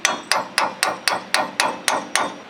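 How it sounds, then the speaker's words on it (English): Hammer tapping on a bolt during upper control arm and tie rod end work on a Lincoln Town Car, ten sharp metallic strikes at an even, quick rhythm, close and loud with no talking. "Tap it a little bit with a hammer and it should pop out."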